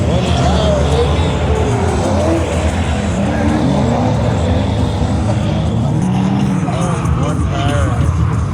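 Car engine at a nighttime drift session, a loud continuous roar with revving pitch swings throughout, mixed with crowd noise and people talking nearby.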